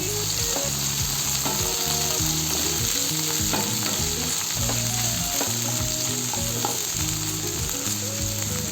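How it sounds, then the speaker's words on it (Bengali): Chopped jackfruit seeds and boiled chickpeas fry in oil, giving a loud, continuous sizzle with light clatters of stirring, while a steady melodic tone runs underneath. "এখন দিয়ে দিচ্ছি কাঁঠাল বিচি কুচি আর সেদ্ধ করা চানাগুলো। এখন এইগুলিকে অল্প ভেজে নেব।"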